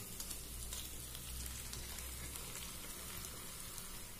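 Mixed fried vegetables for Bengali shukto tipped into a hot pan and sautéed, giving a steady, even sizzle and frying hiss throughout with no talking, a low rumble fading partway through.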